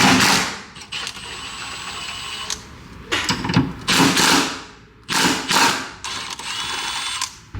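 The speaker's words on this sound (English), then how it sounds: "now we're gonna remove the 13 millimeter bolts to these hangers" Ratchet work on 13 mm bolts at the exhaust hangers of a BMW E92 during a VRSF exhaust install, heard as bursts of close, dense mechanical clicking that stop and start several times.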